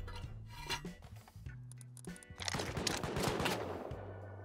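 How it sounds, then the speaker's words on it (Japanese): Automated base turret firing in a Rust-style survival video game, a rapid rattling burst of gunfire building up after a stretch of quieter game sounds, loud and sustained toward the end. "自分の拠点のタレットが反応してます ね"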